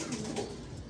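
A pigeon gives a soft, low coo, brief and close by.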